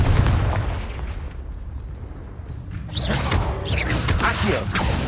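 Spell blast effects in the Hogwarts Legacy video game: a rumbling whoosh is followed near the three-second mark by a bright, crackling burst with sharp impacts, loud and dense across the clip.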